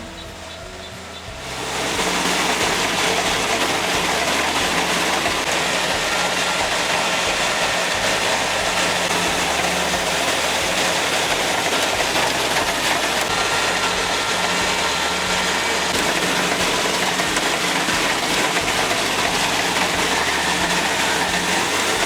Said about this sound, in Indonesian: padi organik siap dipanen dengan menggunakan mesin panen combine harvester